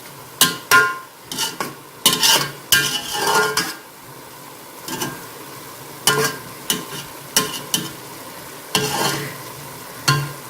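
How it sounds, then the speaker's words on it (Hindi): Rice for mutanjan, a sweet zarda dish, is stirred and mixed in a pot: repeated scraping and clinking strokes come in short bursts with brief pauses, close and fairly loud, with a light sizzle underneath. "ये देखें, इस तरह करके सारे चावलों को मिक्स करना है।"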